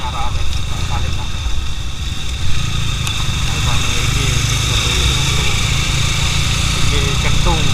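A Honda CB motorcycle engine running steadily at a gathering on a rainy day, a continuous low rumble heard under people talking nearby.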